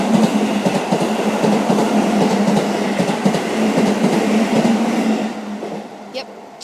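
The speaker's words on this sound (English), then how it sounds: "And that was the train." A train in Japan rumbles and clatters steadily past at close range, its roar holding for about five seconds before quickly fading away.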